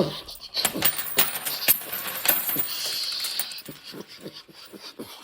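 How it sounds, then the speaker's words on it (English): Quarters clatter and jingle as they spill onto a hard surface, a quick flurry of metallic clinks followed by a few scattered bounces. "Cue coins."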